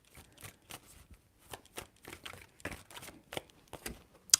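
Tarot cards are shuffled in a run of short, crisp riffling bursts, close and fairly quiet, with brief pauses between each flurry and no talking.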